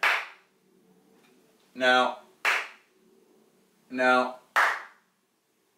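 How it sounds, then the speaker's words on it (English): Two pairs of sharp hand claps, each clap followed by a brief low buzzing tone from a clap-on, clap-off green screen switching in a small basement studio; close and loud, with quiet gaps between pairs and a short spoken word. "It's one of those clap on, clap off green screens."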